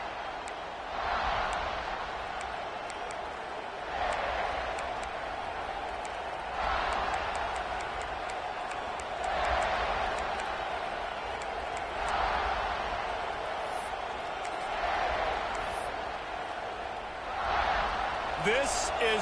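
Stadium crowd in an NCAA 26 college football video game, South Carolina against Miami, a steady roar that swells in regular waves every few seconds, with faint thuds beneath.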